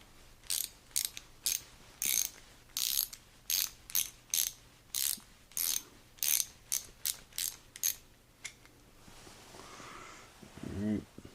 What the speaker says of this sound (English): Grab a ratchet so I can loosen up some of these bolts around here.